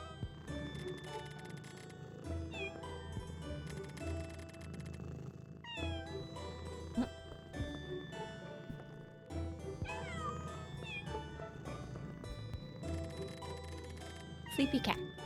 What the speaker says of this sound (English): Sleepy cat.